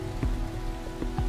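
Rain falling in the African bush, a steady close patter of drops striking leaves and ground, with a few heavier splashes standing out, and no voices.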